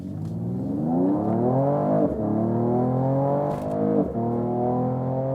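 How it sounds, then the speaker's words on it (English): A 2022 Mercedes CLS 53 AMG facelift sprints from 0 to 100 km/h, its engine note rising smoothly through three gear pulls, each marked by a short dip at the shift. Heard loud and close from inside the cabin. "that's 0 to 100 kilometers an hour or 0 to 60 miles an hour, and impressive, I would say, and very, very smooth."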